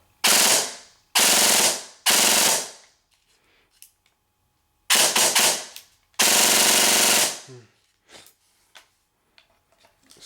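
A custom-built airsoft M4 rifle fires on full auto in five loud, rapid bursts of about a second each, separated by short pauses, with faint mechanical clicks and handling noise between strings.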